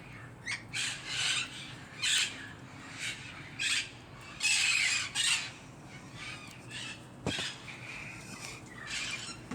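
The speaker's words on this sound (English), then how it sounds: "But it has to be a parrot." Wild green parrot squawking in a series of loud, harsh calls, repeated in bursts at close range, with no talking.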